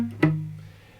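Guitar playing a riff with power chords, one sharp picked attack ringing out and decaying over about a second, close and alone without talk.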